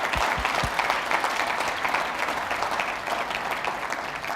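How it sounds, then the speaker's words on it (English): Guests at a charity gala dinner auction applauding a sold lot, a steady even wash of applause from a room of diners at moderate distance, with no talk over it. "Round of applause."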